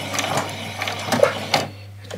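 Sewing machine running a short back stitch along the edge of a doll's dress near a cord, with a few quick bursts of needle chatter and brief pauses, fairly close and alone.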